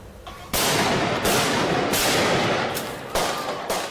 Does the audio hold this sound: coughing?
no